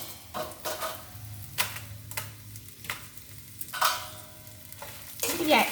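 Dried red chillies drop into hot oil and fry with a soft crackling sizzle, punctuated by several distinct scraping or tapping strokes at irregular intervals, fairly quiet and close.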